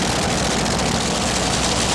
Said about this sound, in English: Those 5 big Aries engines are the power source for none other than the Driller, with Leo K at the throttle